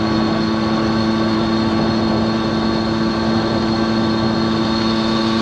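A 1979 Honda Express moped engine hums steadily while riding, a constant buzzing drone with strong steady tones, loud and close, no voices.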